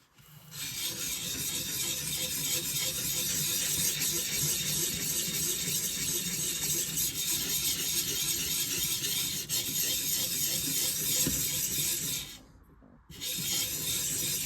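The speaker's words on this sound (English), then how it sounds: "I'm using a 250 grit diamond stone here" A paper cutter blade scraped across a 250 grit diamond stone gives a steady, close, continuous grinding rasp, broken by a short pause near the end before the stroking resumes.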